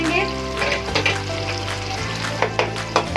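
Tomatoes and onions are mashed in a hot cooking pan for a chicken dish, giving a steady sizzle broken by soft scraping and pressing knocks, close and alone.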